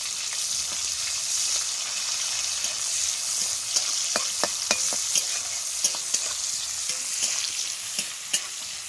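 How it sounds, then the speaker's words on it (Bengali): Steady crackling sizzle of onions frying in oil, with occasional stirring clicks and scrapes throughout, close and fairly loud. "পেঁয়াজটা কিন্তু খুব ভালোভাবে ভেজে নিতে হবে।"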